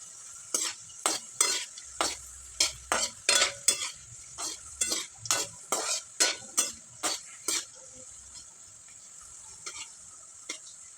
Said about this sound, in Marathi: दोन्ही बाजूने व्यवस्थित तळून घ्यायचे चपातीचे तुकडे